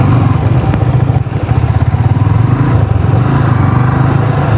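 A motorcycle runs steadily along the beach at Cox's Bazar, its engine close and loud with a throbbing, even drone and a brief dip partway through, no voices over it.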